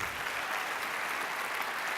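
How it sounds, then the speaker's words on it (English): Test round of applause from a conference plenary audience, a steady wash of many hands clapping heard at a distance, fairly quiet and even for about two seconds. "can we get a test round of applause?"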